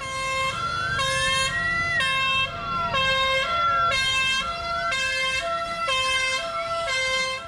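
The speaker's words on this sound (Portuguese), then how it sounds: "A sirene alerta que há alguém esperando socorro." An emergency vehicle siren wails loudly with rising and falling tones, layered with a pulsing horn pattern that repeats steadily.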